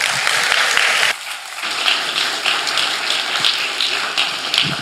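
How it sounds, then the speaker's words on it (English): A church congregation claps loudly in a dense, rain-like wash of applause that drops out briefly after the first second and then swells back. "you guys are clapping so loud"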